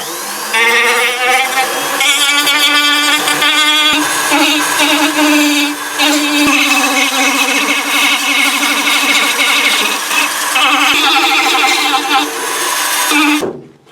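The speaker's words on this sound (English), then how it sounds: "when using a cutoff wheel" A loud, continuous high-pitched whine of a power cutting wheel grinding through material, sustained for several seconds with slight pitch shifts, then stopping abruptly.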